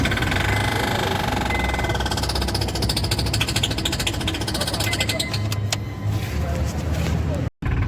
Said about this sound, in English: Sounding like metal is grinding inside the engine right now.